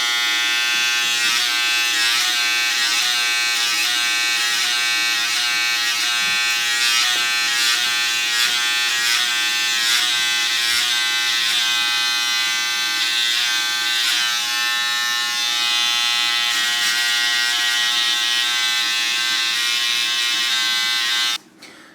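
An electric hair trimmer buzzes continuously and close during a line up, a steady harmonic whine that holds for about twenty seconds before cutting off abruptly.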